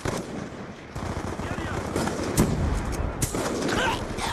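Rapid automatic gunfire from the video game Black Ops 2 rattles in bursts, with a few sharper shots standing out over a busy, continuous mix.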